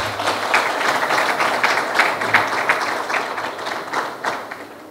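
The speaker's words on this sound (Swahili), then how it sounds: "Makofi mengi sana." Enthusiastic applause from an audience at a Simba SC club announcement, a dense wash of many hands clapping steadily for several seconds at close range.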